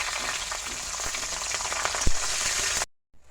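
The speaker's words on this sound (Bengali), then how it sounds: "দেখো তেলটা গরম হয়ে গেছে একটু বেশি পরিমাণে দিয়ে দিল পাঁচফোড়ন আর দিয়ে দিচ্ছে একটু বেশি পরিমাণে সেরা কাঁচামরিচ" Panch phoron spices and green chillies fry in hot oil, a steady close sizzle with small crackles and one sharp pop before the sound abruptly cuts out.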